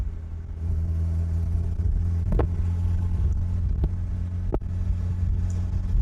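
A Bugeye Sprite sports car drives along a smooth road, its small engine giving a steady mid-pitched rumble from inside the cabin, broken by a few brief knocks and thumps.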